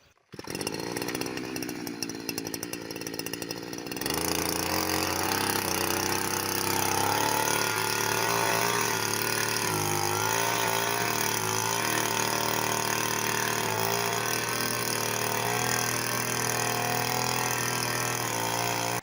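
A petrol brush cutter mows grass along a path, its two-stroke engine revving up after a brief start and then holding a loud, steady, buzzing drone close by with slight load fluctuations as it cuts.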